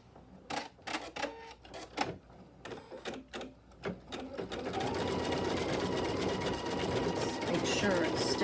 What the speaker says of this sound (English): I'm going to jump to the decorative stitch just to save time